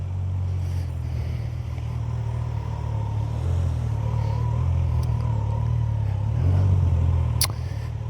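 A motorbike engine drones while riding on the road, a steady low rumble with slight rises in pitch as it accelerates, under constant wind and road noise, no talking.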